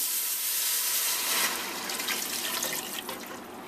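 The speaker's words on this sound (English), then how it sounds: "we're going to add 3 1/4 cups of water and then 3 cups of vegetable stock" Water poured steadily into a soup pot for a healthy vegetable soup, a continuous close splashing rush that holds for several seconds and eases slightly toward the end.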